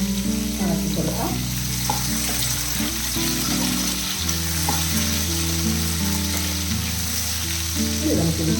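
Vegetable mezhukkupuratti sizzles in a pan while being stirred, a steady close frying hiss with soft scraping and spatula knocks, and faint water running in the background.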